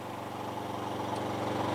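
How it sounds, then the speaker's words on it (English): The engine of a 2019 Stepp Mfg Co OJK125 crack sealing kettle runs steadily under load, a close, continuous mid-pitched drone with faint harmonic pulsing. "You'll hear the engine comes under a load."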